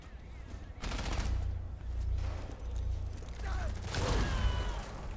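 Repeated bursts of pistol gunfire in Rainbow Six Siege rattle through a steady low rumble, several clusters of shots spread across the few seconds, loud and close in a game-like mix.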